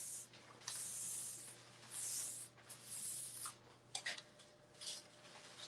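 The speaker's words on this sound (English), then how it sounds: "So again, I'm going to very lightly spray that." Several short, close hissing bursts from an adhesive spray can, lightly spraying for sublimation dish towels, each followed by a brief pause, in an otherwise quiet room.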